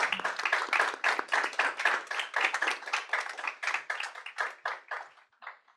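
Audience applause after a technology presentation at a TechSprint transparency event, a dense burst of clapping that runs steadily and then thins out into a few scattered claps near the end.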